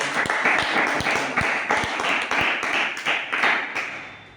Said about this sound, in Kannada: ಇವರಿಗೆ ಜೋರಾದ ಚಪ್ಪಾಳೆಗಳ ಮೂಲಕ ಸಮಾಜ